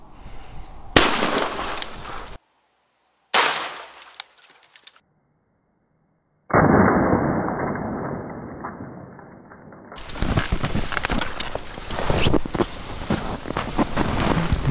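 A shotgun chambered for 70 mm shells is fired outdoors behind trees with Magnum and Supermagnum loads, giving a few loud, sharp blasts separated by silences, each followed by a rough noisy tail.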